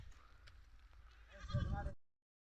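A single goat bleat rings out near the end, fairly close, over a quiet outdoor background.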